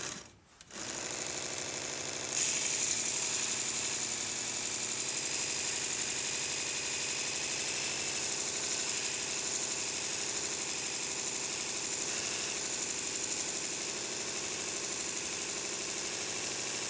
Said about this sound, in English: I suppose I could just start sharpening it.